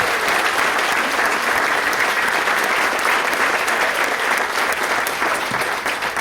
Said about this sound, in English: one more round of applause for all of the evening's honorees